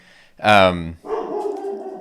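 Dogs inside a house let out a loud, close bark followed by a lower, drawn-out growling whine, with talk nearby.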